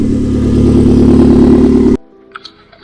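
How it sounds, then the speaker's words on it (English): A turbocharged 4B11 engine in a Mitsubishi Lancer idles loudly and evenly up close for two seconds, then cuts off abruptly, leaving near silence with a few faint clicks. "So you can hear the idle is pretty good."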